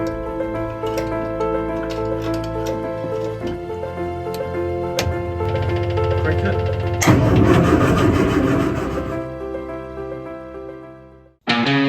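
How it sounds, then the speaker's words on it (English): A race car engine, first start after four months, cranks with rapid ticking, then catches and roars loudly for several seconds before cutting out abruptly, heard up close. "it's time to see if this race engine will start for the first time"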